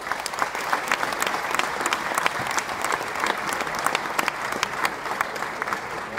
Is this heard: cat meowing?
no